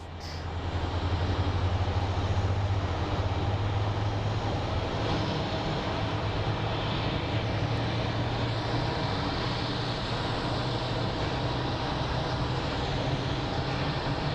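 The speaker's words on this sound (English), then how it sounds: "here we have a little Airbus being towed." A small Airbus airliner being towed at Sky Harbor airport in Phoenix, heard as a steady, droning engine and tug rumble with a low hum that holds loud and constant throughout, with no talking.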